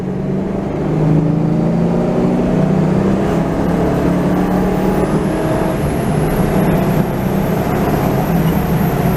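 A 1982 Mercury Capri engine pulling around a corner while cruising south of Montreal, a loud steady drone that rises as it accelerates, heard close and continuous from inside the car.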